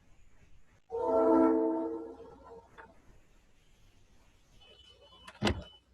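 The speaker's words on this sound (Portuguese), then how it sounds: "Depois da buzina continua um barulho, que é o barulho dos trilhos" A distant train horn sounds once in a harmonic blast of about a second, followed by faint rumbling and a few quieter knocks, then a sharp bang near the end.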